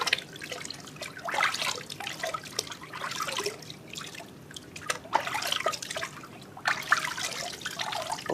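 Water trickles and splashes in irregular pours as shampoo is rinsed off a baby in a bath, close and continuous with soft dribbling between louder gushes, no talking.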